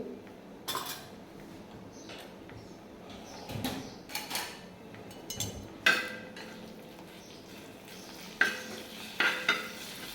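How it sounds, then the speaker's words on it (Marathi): Finger millet leaves fry in oil with turmeric on a griddle with a light sizzle, broken by scattered clinks and scrapes of a utensil stirring on the pan. "हे नागलीचे पालं मी तळून घेणार आहे"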